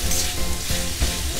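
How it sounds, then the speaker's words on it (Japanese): Onion stir-frying with pork in oil in a Chinese wok over medium heat, a loud, dense, steady sizzle with faint scraping stirs, close up and without talk. "炒めます。"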